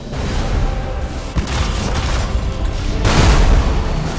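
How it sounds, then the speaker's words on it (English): Warship main batteries open fire in the space-combat game Battlefleet Gothic: Armada 2, producing loud rolling booms and bursts that layer into a dense, continuous barrage with a heavier blast near the end. "Main batteries, open fire!"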